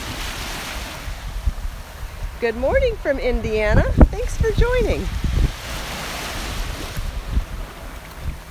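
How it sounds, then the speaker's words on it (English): Ocean waves wash onto a beach under gusty wind buffeting the microphone, a continuous rolling surf roar, while a voice briefly speaks a greeting over it midway. "how healthy it is to listen to the sound of the waves"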